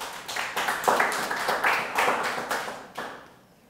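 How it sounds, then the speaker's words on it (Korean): A church congregation at a Sunday worship service claps together, a burst of brisk rhythmic hand claps in a reverberant hall that builds, holds, then fades out near the end. "하나님께 영광의 박수를"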